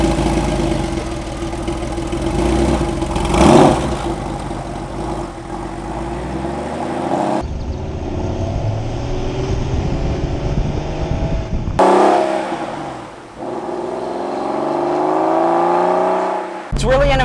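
A Porsche 911 of the 993 generation idles with a rough, throbbing burble, then is revved in rising and falling swells that change tone as it is driven, with people talking over parts of it.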